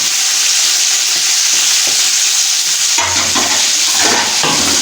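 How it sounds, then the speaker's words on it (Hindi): Kabuli pulao being stirred with masala in a hot pot, loud close sizzling with stirring scrapes that grow busier and more clattering partway through, no speech. "इसको मिक्स करेंगे अच्छी तरह से।"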